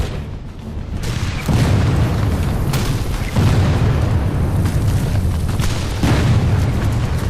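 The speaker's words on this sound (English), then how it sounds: "Bullets and shells fly in all directions." Battle sound effects of artillery shells exploding, heavy low booms rolling one after another at a steady loud level with dense rumbling in between and no talk.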